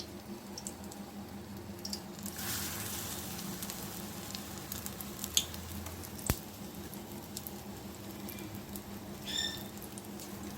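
Batter-dipped banana flower fritters going into hot oil, a continuous soft sizzle and patter with a few sharp clicks, close and moderately quiet, no talking.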